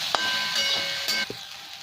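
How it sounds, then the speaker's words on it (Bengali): Onions and onion greens fry for street-style chowmein, giving a continuous loud sizzling hiss in the pan with a few faint utensil knocks, and no talking. "এখানে পেঁয়াজ আর পেঁয়াজের পাতা এবার এগুলো আরও 1-2 মিনিট আমি ভেজে নেব।"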